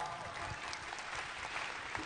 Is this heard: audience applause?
yes